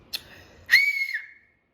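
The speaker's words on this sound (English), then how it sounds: "She put 2 fingers to her mouth and whistled like this." A short chirp, then a loud, piercing two-finger whistle held for under a second, sliding slightly down in pitch before cutting off.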